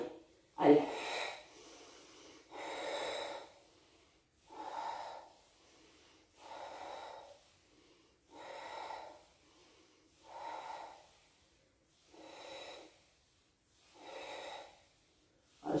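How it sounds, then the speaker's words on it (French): Slow, deliberate breaths out and in during a Pilates exercise, eight or so even bursts spaced roughly two seconds apart, close and fairly soft with quiet gaps between. "Je souffle et j'inspire."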